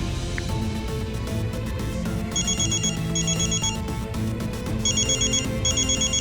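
A mobile phone ringtone chirping in repeated electronic trills, sounding in short bursts over a dramatic music bed, clear and moderately loud.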